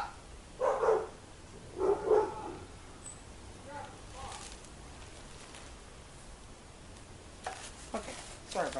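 A dog barks a few times in short paired bursts, fairly close, followed by quieter whimpers and rustling; a person's voice is also heard.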